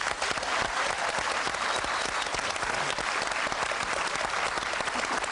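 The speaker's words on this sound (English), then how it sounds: "big round of applause for Emma Sayle" Audience applause for a guest on a panel show, a dense, steady roar of many hands clapping at close range that fills the whole stretch without a break.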